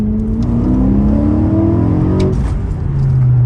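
A BMW E92 M3 engine with an aftermarket exhaust revs loudly and continuously, pitch climbing then dropping back before rising again, a throaty exhaust roar with no talking.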